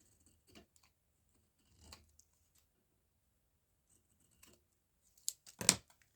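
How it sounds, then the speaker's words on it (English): Scissors trim paper embellishments for a masterboard craft project in a few quick, close snips, sparse at first and then a louder cluster of cuts near the end, with quiet gaps between. "So like I'm just eyeballing the cutting of them."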